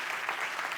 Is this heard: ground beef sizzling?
no